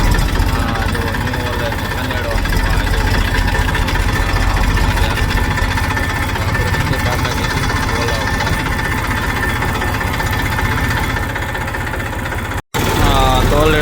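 A tractor engine idles with a steady throbbing knock during servicing on a farm, running loud and continuous with voices in the background.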